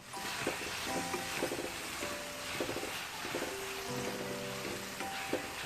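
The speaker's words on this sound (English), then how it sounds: "Then to this let's add 2 spoons of curd. Saute it well." Curd sautéing in a pan for mushroom biryani crackles in a moderate, continuous sizzle, broken by occasional stirring knocks and clinks with tonal ringing, with nobody talking.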